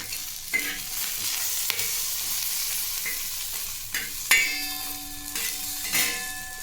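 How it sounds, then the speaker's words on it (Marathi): Chillies, garlic cloves and cumin dry-roast in a pan with a soft, steady hiss, broken by occasional sharp metallic knocks and scrapes of the spatula. "छान असं भाजून घ्यायचं आहे मिरची पण लसूण पाकळ्या पण भाजायचं आहे"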